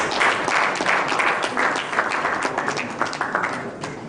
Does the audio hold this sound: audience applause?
yes